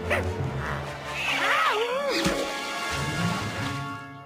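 A little cartoon dog yips and whimpers in short rising and falling cries, mixed with cartoon voices and music.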